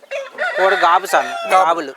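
Loud, close rooster crowing with clucking, a couple of drawn-out calls from a gamecock kept in a night shelter on a farm, heard alone.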